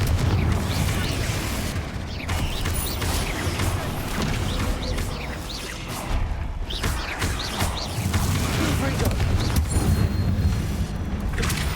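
Explosive spell blasts in the Hogwarts Legacy game, a dense run of booms and crashes filling the whole stretch under a constant thick wash of game sound and effects.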